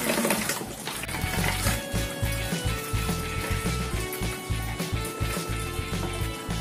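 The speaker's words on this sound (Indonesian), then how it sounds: "Selanjutnya kita akan isi galonnya ya dengan air bersih." Clean water pouring into a plastic gallon jug, a steady full splashing and gurgling flow close by that carries on without a break.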